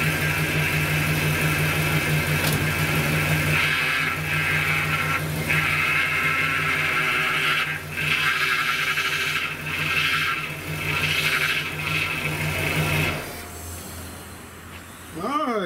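A 1973 Buick Electra Limited runs at a steady idle, its engine humming loud and close with a constant drone, then the tone shifts near the end as the running note changes.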